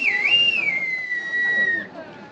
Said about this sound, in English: I blow the whistle.